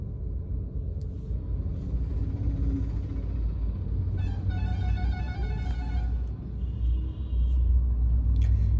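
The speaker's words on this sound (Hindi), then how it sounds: "मुझे लगा पीछे से कोई हॉर्न दे रहे हैं" A steady low engine rumble fills the scene while a car horn sounds for about two seconds midway, somewhat distant.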